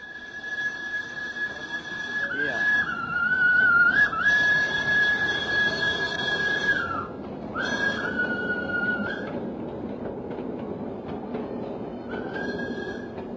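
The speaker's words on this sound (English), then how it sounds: "the steam tram bustled through this little Holland in the tropics" An old steam tram in the streets of colonial Surabaya sounds a long, shrill whistle in several sustained blasts with short breaks, over a low rumbling, rolling background.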